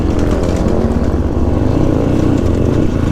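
Several motorbikes on a group snow ride drone steadily and loudly close by, a continuous engine rumble with no break, with no talk over it.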